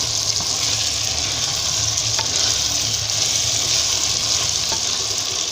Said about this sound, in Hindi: डाल के हमने अच्छी तरीके से इसको हिला देना है